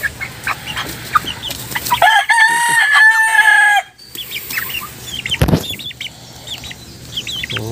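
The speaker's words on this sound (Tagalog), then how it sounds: "Ayan po yung ating Polish chicken." Polish chicken clucking repeatedly nearby, with a sustained harmonic crow in the middle and scattered sharp calls around it; no one speaks.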